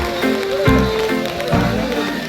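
Heavy rain comes down steadily in a foggy Darjeeling hill town, a dense continuous hiss with a few louder thuds and shifts, close and loud throughout.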